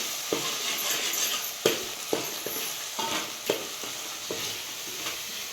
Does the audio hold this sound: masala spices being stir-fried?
yes